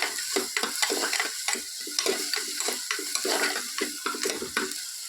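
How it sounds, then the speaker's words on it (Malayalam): Food sizzles steadily in a frying pan while a utensil stirs it, with a rapid run of close, sharp scrapes and clinks against the pan over the constant crackle. "നന്നായി ഇളക്കി കൊടുക്കുക."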